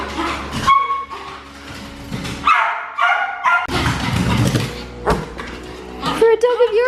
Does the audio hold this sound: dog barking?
yes